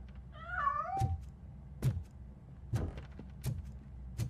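A cat meows in the RoboCop: Rogue City video game, one clear rising-falling meow followed by several sharp thuds and knocks, fairly close and heard alone.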